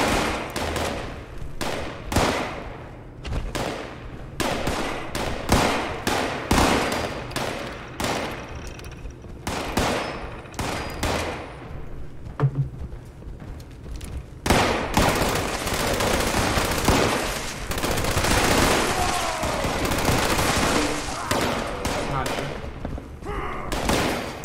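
Gunfire in Fallout 76, an online post-apocalyptic shooter, cracks out in repeated sharp shots and short bursts, some rapid like automatic fire. Toward the end it turns into denser continuous firing and clatter, with a person talking between shots.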